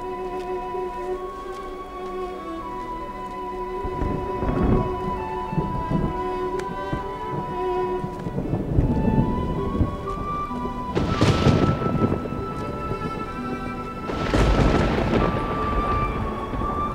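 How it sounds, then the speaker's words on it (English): A thunderstorm with steady rain pouring throughout, while several heavy rolls of thunder rumble and crack at intervals, some loud and near, building to strong bursts late on. "It's raining. It's raining."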